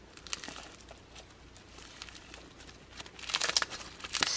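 A cheap Shein crunchy slime being squished and pressed between the fingers gives quiet crackly crinkling that grows louder toward the end. It sounds close and has no speech over it.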